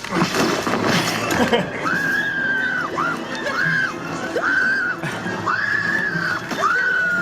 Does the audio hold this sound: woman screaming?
yes